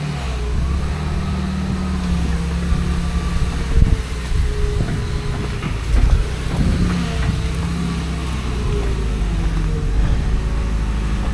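A heavy diesel excavator engine drones steadily nearby as the machine swings its boom, with low rumbling and occasional mechanical clunks as it works.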